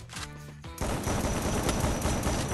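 Gunfire in a Free Fire sniper duel, starting with a brief tonal passage and then a sudden loud, dense burst of shots that keeps going, close and steady with no talk over it.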